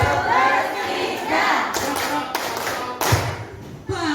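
A group claps a rhythmic routine of numbered patterns during a positive-culture session with teachers, giving sharp close taps and claps in bursts alongside chatter and voices.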